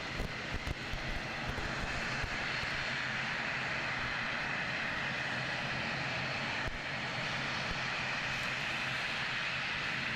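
An airliner on flight NZ5179 from Palmerston North arrives at Christchurch Airport, its engines giving a steady, loud broadband roar that holds evenly throughout with no talk over it.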